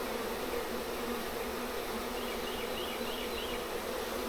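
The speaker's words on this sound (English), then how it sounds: "As the bees under the frame come out and get on the frames" Bees buzz steadily inside an opened beehive during frame work, a dense, constant drone of many insects close by, with a few individual wingbeats standing out near the middle, and no talking.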